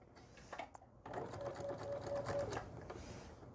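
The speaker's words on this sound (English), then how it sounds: "just sew directly on that line" A sewing machine stitches a table runner straight along a marked line, running steadily for about a second and a half after brief handling noises, with a close, even mechanical whir.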